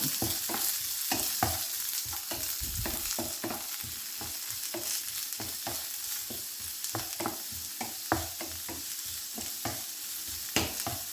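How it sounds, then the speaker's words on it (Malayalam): Green chillies, onion and a sprig of curry leaves sautéed in a pan for a banana stem and moong dal thoran, rhythmic scraping stirs clattering over a soft sizzle, close up and without speech. "ഒരു തണ്ട് കറിവേപ്പിലയും കൂടി ഇട്ട് കൊടുത്ത് എല്ലാം കൂടി ഒന്ന് വഴറ്റി കൊടുക്കാം."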